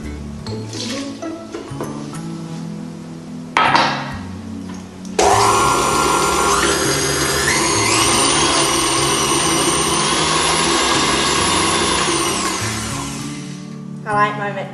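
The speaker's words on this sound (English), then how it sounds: "I like my mixer." An electric mixer whirs steadily through blueberry muffin batter for roughly seven seconds, loud and close, with a kitchen voice and clatter before it starts.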